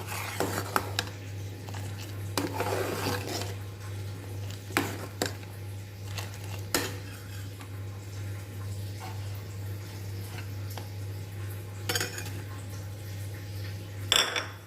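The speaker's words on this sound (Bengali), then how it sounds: "কর্নফ্লাওয়ারটা দিয়ে একটু নাড়তে হবে।" Cornflour being stirred into custard milk in a pot, with a spoon scraping and clinking against the metal in scattered, close knocks over a low, steady hum.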